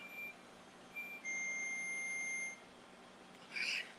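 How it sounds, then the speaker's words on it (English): A kitchen timer beeps in bright repeating tones, one short beep, then another, then a longer sustained tone, fairly loud and close, with no talk over it. "Okay, the timer's going off."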